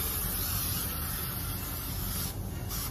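A spray can hisses steadily as it coats the blazer and shoulders of a DIY zombie costume, one continuous close, even blast lasting about three seconds with no talk.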